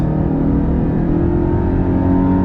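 A pickup truck engine revs hard and accelerates off-road, a loud, steady, close roar that holds throughout with no talking.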